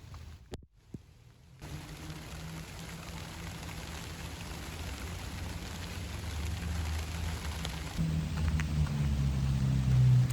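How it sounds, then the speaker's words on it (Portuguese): Rain begins falling on a street near a market, a soft steady hiss that grows gradually louder, with a low traffic rumble underneath and a few brief knocks at the start. "E então começou a chover."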